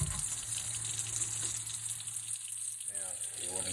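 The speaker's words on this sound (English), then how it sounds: "If you hit this, your water will come" Water rushing from a tap, a steady close hiss and gush running throughout with a brief splashy change near the end and no speech over it.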